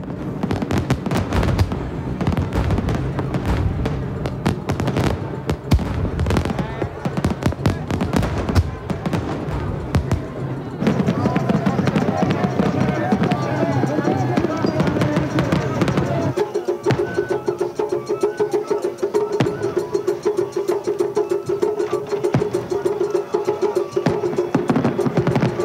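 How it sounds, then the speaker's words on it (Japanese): Fireworks burst at the Chichibu Night Festival on a winter night, rapid crackling pops and booms in dense volleys, with crowd voices and chatter underneath and a voice speaking near the end. "花火が、でも冬に見るのはやっぱり空気が澄んでて綺麗に見えますね。"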